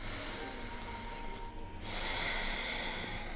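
Steady, loud breathing close to the microphone during a yoga session, a long airy exhale followed by a brief pause and another strong breath, with no talking.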